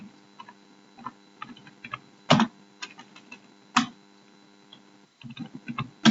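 Text being typed on a computer keyboard during a CorelDraw 11 tutorial, heard as scattered soft key clicks with a few louder, sharper strikes, close and clear, with no talking.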